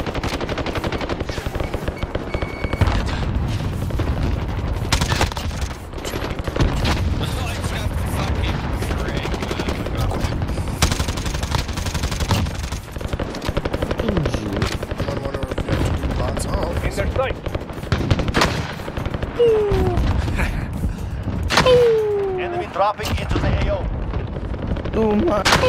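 Gunfire in the video game Warzone: sustained bursts of automatic fire and scattered shots pepper the scene, with booming impacts and voices talking over the battle.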